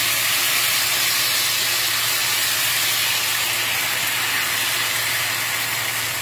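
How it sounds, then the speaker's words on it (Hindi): A mixture sizzles and hisses loudly in hot oil in a frying pan, giving a dense, steady crackling spatter close up with no speech over it. "हमारे फ्राई पैन में ऑयल गर्म हो गया, इसमें मैं ये डाल रहा हूँ।"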